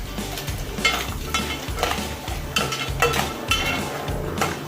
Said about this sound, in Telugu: అన్నీ మిక్స్ అయ్యే వరకు చక్కగా కలుపుతుంది